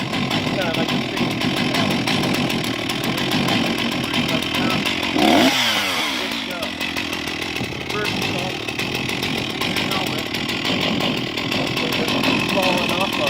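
Chainsaw cutting through a downed tree outdoors, a loud steady engine roar throughout with a brief dip and bogging in the middle as the chain bites the wood, then revving on.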